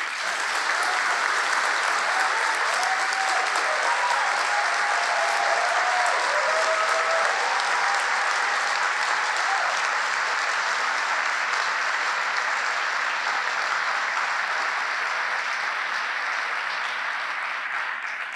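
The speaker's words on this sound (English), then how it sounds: "Can we have one last round of applause for them?" Sustained audience applause at the Jessup 2023 international moot court world championship, a dense, even wash of clapping from a large crowd lasting the whole stretch, with faint voices under it.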